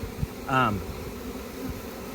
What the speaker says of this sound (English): See how all these bees are fanning at the entrance here?